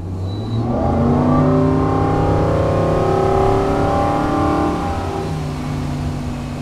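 A Nautique S21 Super Air wakeboard boat throttles up from idle, its engine swelling into a loud, rising roar that holds for several seconds and then eases back to a steady drone, with no talking.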